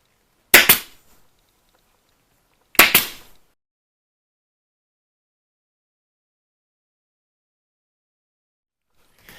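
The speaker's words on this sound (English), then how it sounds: "we're going to staple this all on." Two sharp, loud staple-gun snaps, a couple of seconds apart, fasten fabric swags onto a valance, followed by quiet and a third snap at the very end.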